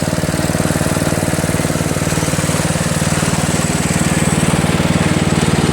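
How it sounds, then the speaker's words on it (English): A Toro Wheelhorse Recycler riding mower powered by a Briggs 8HP engine runs at a constant idle, a loud close steady putter with rapid even firing pulses and no talk. "Riding mower."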